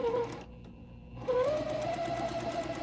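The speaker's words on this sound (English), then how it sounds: "And again, we are sewing right on that line we have drawn." Domestic sewing machine stitching a quilt block along a drawn line, a steady close whirring hum that pauses briefly midway and then runs on.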